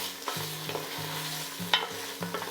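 Thai panang curry paste frying in oil in a pan, a steady sizzle broken by repeated scraping strokes of a spoon stirring, with a few sharper clinks against the pan.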